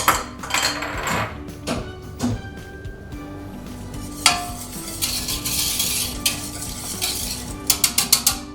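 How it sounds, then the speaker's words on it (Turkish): A whisk or spoon stirring eggs and milk together in a bowl, with bursts of swishing and sharp metallic clinks against the rim, several quick taps near the end, heard close with no talk. "Evet kremamız ısınırken diğer yumurta ve sütü karıştırıyoruz."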